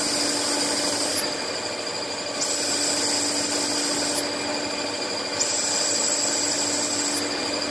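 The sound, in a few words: CNC machine cutting an AR-15 barrel tenon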